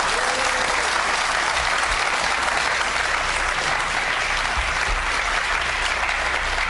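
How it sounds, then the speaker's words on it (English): A studio audience on a game show gives steady, full applause with dense crowd clapping at an even, sustained level from start to finish. "Round of applause, please."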